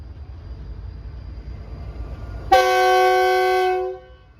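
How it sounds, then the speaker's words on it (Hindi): Loud train horn sounding at Karachi Cantt railway station as an express departs platform one, a single sustained blast of about a second and a half cutting in over quiet platform ambience, then fading out. "काफ़ी कान फाड़ता है ये हॉर्न।"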